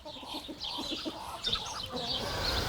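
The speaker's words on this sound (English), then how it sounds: "Every farm has its own flock of chickens." Farm chickens in a free-ranging flock cluck softly and repeatedly at a moderate distance, with scattered higher calls over a quiet outdoor background.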